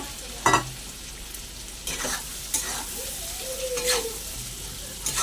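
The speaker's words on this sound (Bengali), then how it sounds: "এবার ভেজে রাখা সয়াবিনগুলো আমি দিয়ে দেবো। দিয়ে একটু ভালো করে কষে নেব।" Fried soybeans are stirred into spiced masala in a pan, giving a steady sizzle broken by several sharp scraping stirs of the spoon against the pan.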